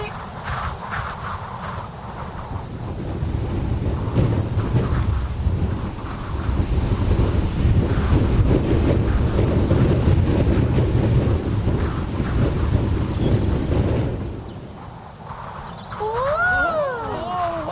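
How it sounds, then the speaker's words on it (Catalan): A strong wind rises and roars for several seconds in a Teletubbies episode, a broad blustery rush that swells, then fades, followed by a brief warbling tone. "de cop i volta va començar a bufar un vent molt fort"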